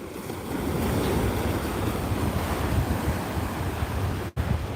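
Ocean waves washing onto a beach at night as the tide comes in, a continuous broad roar of surf with wind buffeting the microphone, no voices.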